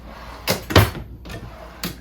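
A kitchen drawer in an Alliance Avenue 30RLS RV slides and knocks, several quick wooden clunks and rattles close by, with no talk.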